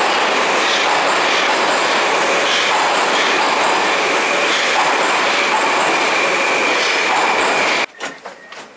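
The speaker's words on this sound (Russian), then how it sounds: "мы в метро" A metro train runs through a deep Moscow subway station with a loud, continuous rumble and wheel noise that cuts off abruptly near the end, leaving a few faint knocks.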